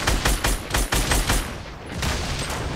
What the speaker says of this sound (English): we're being shot from all directions